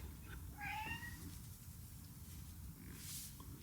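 Ziggy, a pet cat, lets out a short, faint, rising meow over a low indoor hum. A quieter squeak follows it.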